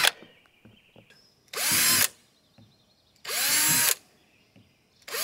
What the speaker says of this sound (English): But I'll drill a hole in the top. Again, this is 5/64.